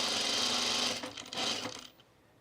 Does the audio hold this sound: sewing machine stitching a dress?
yes